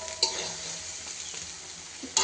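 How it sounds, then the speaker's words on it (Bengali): Onion, green chilli, cumin powder, turmeric and spices frying and sizzling steadily in hot oil while being stirred, a close continuous hiss with a couple of brief utensil clinks, for a spicy ridge gourd and prawn curry. "এখন এটাকে ভালো করে কষিয়ে নেব, তেলে ভেজে নেব ভালো করে"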